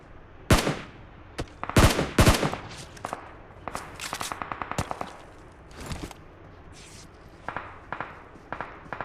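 Gunfire in the mobile battle royale game Free Fire: bursts of automatic fire and single sharp shots in irregular clusters, loud up close, with quieter shots and scuffling footsteps between them.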